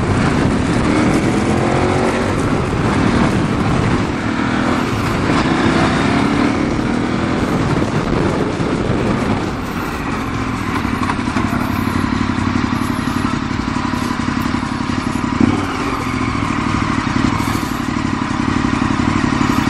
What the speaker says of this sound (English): I really love this Akropovich muffler.